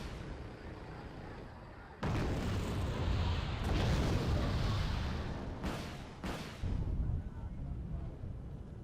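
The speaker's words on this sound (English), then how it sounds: "Now we've got some cluster artillery, and guess it's going to be a Mars, of course." Mars cluster artillery barrage in Wargame Red Dragon, a sustained loud rumbling roar of impacts peppering a forest, with several sharp blasts near the end and a caster's voice talking over it.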